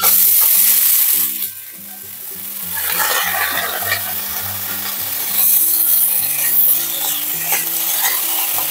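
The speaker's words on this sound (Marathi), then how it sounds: "आता हे जिरं झालेलं आहे। आता यामध्ये आपण मटकी सोडूया।" Moth beans (matki) dropped into hot oil with a cumin tempering, giving a loud sizzle followed by steady stirring and scraping in the pan, with no talking over it.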